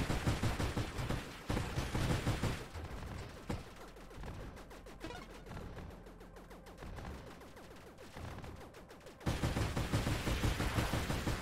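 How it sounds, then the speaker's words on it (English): Rockets burst in rapid, crackling volleys in the space shooter Nova Drift, dense explosive clatter loud at the start and end with a quieter, patterned stretch of popping in the middle, no speech. "Just avoid those rockets exploding. It's an annoying sound effect."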